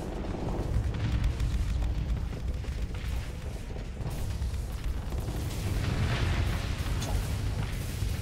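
Pegasus mechs open up with Dragonfire weapons in a video game, a dense, continuous roar of explosive booms and bursts rolling on without pause, loud and close with no talking over it.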